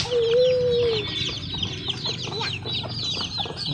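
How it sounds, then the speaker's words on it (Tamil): Free-ranging black country chickens cluck repeatedly near a banana grove, a busy overlapping chatter of short clucks and calls, with one sustained tonal call at the start. "இதான் கோழி."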